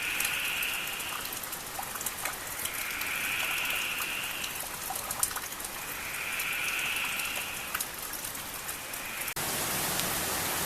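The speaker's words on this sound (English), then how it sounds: "It was the heaviest rain I've ever heard." Heavy rain pours during Cyclone Jasper's flooding, a steady, dense hiss of water that continues throughout with no voices, while a faint higher tone swells and fades in slow pulses.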